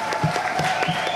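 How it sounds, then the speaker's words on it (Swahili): Dense applause from an audience at a political party gathering in Ruvuma region, Songea rural, a steady wash of many hands clapping with a thin ringing tone running underneath, with no pauses. "Tumpigie makofi mengi sana."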